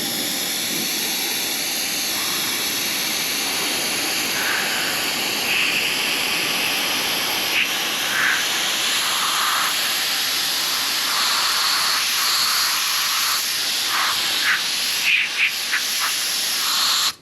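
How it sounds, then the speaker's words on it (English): Air blown steadily onto a freshly repaired compartment lid hinge on a Ranger boat to dry off alcohol, a continuous close hiss running without a break, with faint clicks and taps along the way. "I'm going to gently blow air on it to evaporate the alcohol."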